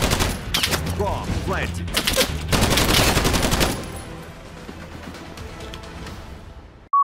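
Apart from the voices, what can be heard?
shotgun gunfire in the video game Battalion 1944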